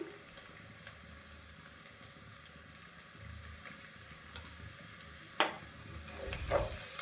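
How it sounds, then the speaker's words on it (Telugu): Turmeric being stirred into chana dal frying in oil for a chicken curry: a quiet, low sizzle with a few sharp spoon clinks and scrapes against the pan, more frequent at the end, no voices. "పసుపు వేసి మొత్తం కలుపుకోవాలి"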